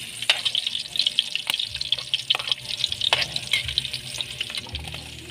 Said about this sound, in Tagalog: Ngayon ilalagay natin yung sili.